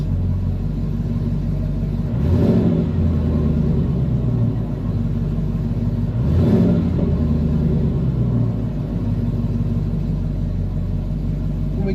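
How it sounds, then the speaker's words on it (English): A cold Ford Coyote V8 in a pickup truck idles with a deep, steady rumble, with two brief light revs swelling and falling back to idle, close and loud. "we'll just do a little light revving"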